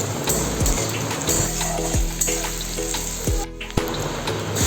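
Chopped onion with spices frying in a pan, a steady loud sizzle with periodic stirring clicks and scrapes throughout.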